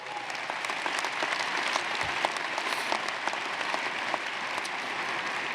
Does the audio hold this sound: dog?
no